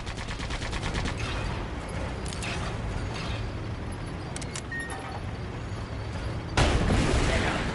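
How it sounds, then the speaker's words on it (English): Machine gun fire in the video game Sand Land, a dense, continuous rattle of rapid shots with mechanical clatter, fairly loud and steady throughout, swelling sharply louder near the end. "Use the machine gun again!"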